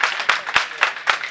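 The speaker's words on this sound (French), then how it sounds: "Chers amis, ça s'applaudit s'il vous plaît." A short burst of audience applause at a pétanque club event in Allada, with about five distinct, evenly spaced claps ringing out fairly close and clear.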